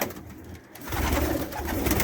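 Budapest Highflyer pigeons cooing in a loft, a soft low continuous burbling coo close by, steady after a brief quieter moment.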